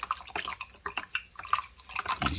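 Water is stirred into a thin sourdough starter in a container, making a close run of small wet sloshes and drips with an irregular stirring rhythm.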